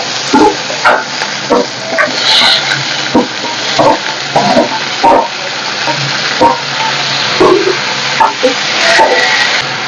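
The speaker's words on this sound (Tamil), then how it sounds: "இதுலயே பச்சை மிளகாயும் ஆட் பண்ணிக்கலாம். அப்படியே நம்ம வெட்டி வச்ச தக்காளியும் ஆட் பண்ணிக்கலாம்." Green chillies and chopped tomatoes frying in a pan, a loud continuous sizzle punctuated by repeated stirring scrapes and clinks of a spoon, close up, with no talk.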